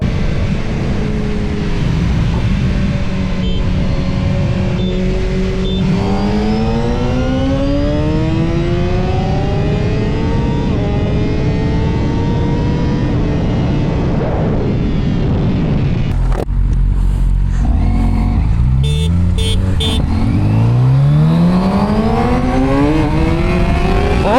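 A 2025 Honda CBR1000RR-R Fireblade SP inline-four motorcycle revving hard in first gear, loud rising and falling engine sweeps with sharp exhaust pops and crackles, very close and continuous.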